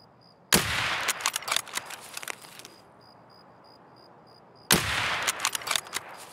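Sniper rifle shots in the video game Escape from Tarkov, two loud sharp cracks a few seconds apart, each trailing into a rattling, echoing tail with fainter pops in between and no talking.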